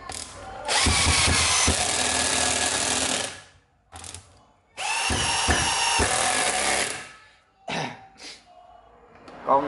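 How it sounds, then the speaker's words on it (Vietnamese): Japanese domestic-market cordless drill and impact screwdriver running in two long loud whirring bursts, each with rattling hammering pulses, then a few short trigger blips, with no talk over it. "Con này thì nó có hai chức năng nha bạn. Chức năng khoan với chức năng bắn vít."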